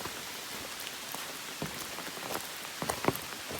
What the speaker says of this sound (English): it started raining again probably 30 minutes ago